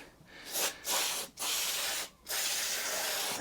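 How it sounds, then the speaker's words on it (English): WD-40 penetrating lube sprayed onto stuck hedge trimmer blades at a workbench: three close, loud aerosol hisses, the first split by a short pause and the next two each about a second long, with brief silences between. "I'll get a bit of WD-40, or I've got some penetrating lube here."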